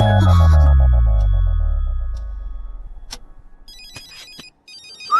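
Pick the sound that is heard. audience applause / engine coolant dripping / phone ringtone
phone ringtone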